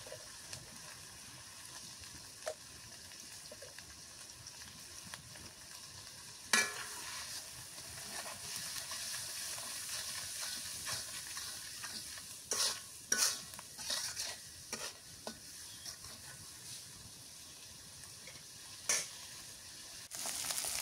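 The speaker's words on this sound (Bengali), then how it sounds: "মশলাটা কষানো হয়ে গেছে।" Turmeric, salt and spices sauté in a pan for a fish and bottle gourd curry, with a quiet ongoing sizzle and scattered sharp scrapes and taps of stirring, some louder than others.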